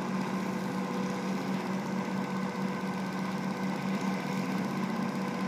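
A small energy-efficient BLDC motor with dual stator poles running steadily on a bench, a constant faint hum with a fine whirring buzz and no change in speed.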